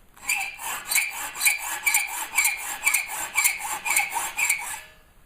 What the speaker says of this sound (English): And saw all the rings right in half